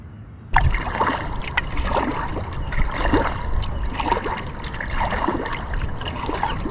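A kayak or canoe paddles downstream with the current on the Milwaukee River, water trickling and splashing softly in an irregular rhythm close by, with no talking.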